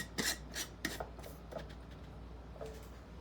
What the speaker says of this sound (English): Put the lid on, finger tighten